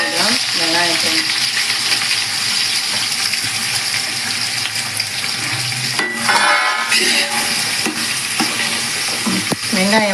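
About 600 grams of onions fry and sizzle in hot oil with cardamom and cinnamon for a large biryani, with a steady close crackle, occasional stirring scrapes and a brief louder burst of sizzling midway.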